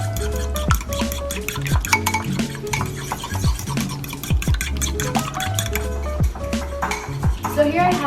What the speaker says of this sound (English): So here I'm just scrambling my 1 egg yolk and 3 egg whites.